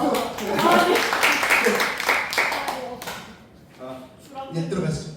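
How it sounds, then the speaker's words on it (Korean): Church congregation at a youth service applauding together, dense clapping across the first few seconds and fading toward the end, with a voice speaking over it. "예, 박수."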